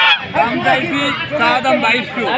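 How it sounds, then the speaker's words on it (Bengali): A domestic goose honks repeatedly and loudly at close range at a village livestock market in Bangladesh, the harsh calls coming in quick bursts over a busy crowd murmur. "এখানে একটা রাজহাঁস এনেছে এক বড় ভাই"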